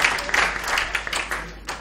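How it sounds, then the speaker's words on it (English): Brief audience applause at a university talk, a short scattered patter of hand claps in a room lasting under two seconds. "I'm going to take that as applause for Sol Plaatje University, not for Adam."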